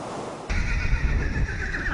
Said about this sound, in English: these horses, good girl, are her main priority